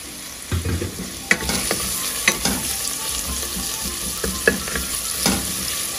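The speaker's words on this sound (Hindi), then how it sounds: "इसके अंदर फिर हम डालेंगे अपना कद्दू जो हमने काट के रखें" Steady sizzling of chopped pumpkin frying with onions in a pan, with a spoon stirring and scraping against the metal every second or so.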